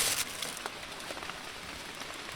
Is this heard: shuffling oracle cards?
no